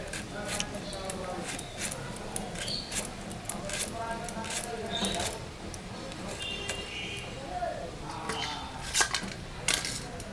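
A knife cuts bitter gourd for pakoras, giving repeated light chopping and scraping clicks against a board at close range, steady through the clip, with faint background noise.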